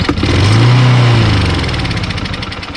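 A Lawnboy push lawnmower with a Kohler 6.5 engine and a varnished carburetor starts up and runs loud and close, surging at first and then settling into an uneven, sputtering drone.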